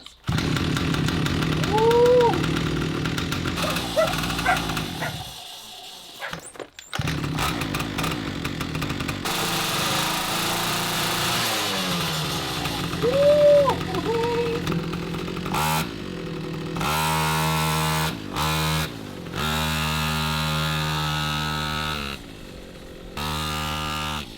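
A homemade mini John Deere tractor's small engine running on a test ride, loud and close, a buzzing, revving drone that rises and falls in pitch with throttle changes and a few abrupt cuts.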